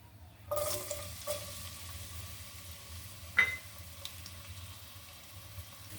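Chopped onion tossed into a hot frying pan for a vegetarian lentil and bottle gourd dish, giving a sudden burst of sizzling that settles into a steady, softer fry with a couple of utensil clinks.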